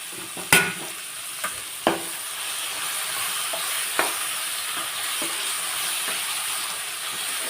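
Boiled cluster beans tipped into a hot pan for a milk curry, setting off a steady sizzle and frying hiss with a few sharp clanks and stirring knocks of a spoon, close and loud, no talk.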